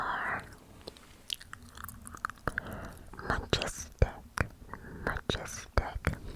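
Close, soft gum chewing with small wet clicks and smacks, interspersed with quiet whispering.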